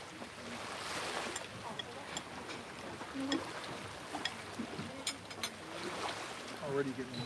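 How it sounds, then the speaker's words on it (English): Soft waves lapping on a beach at a resort on Koh Lipe, heard as a quiet, continuous wash of surf with gentle swells and faint wind, with occasional voices and a boat in the background. "I bet you hear the soft lapping of the waves hitting the beach."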